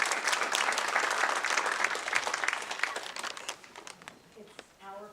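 Applause from a crowd at a public safety town hall in Gallup, dense and steady for about four seconds, then thinning out into scattered claps as it fades.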